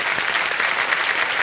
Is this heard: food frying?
no